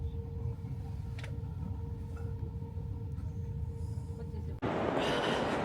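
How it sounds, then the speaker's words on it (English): A train heading to the airport rumbles steadily with a constant low drone and faint tonal hum, then a sudden louder rush of broadband noise near the end as the ride continues. "Quick and easy train journey."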